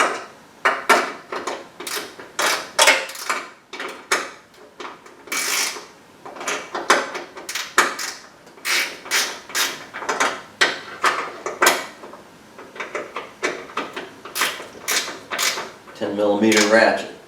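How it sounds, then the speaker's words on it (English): A ratcheting end wrench clicks in quick bursts of sharp metallic ratchet strokes while snugging down the front bumper brace on a third-generation Chevrolet Camaro, close and distinct, with pauses between runs. "finish snugging down the front brace"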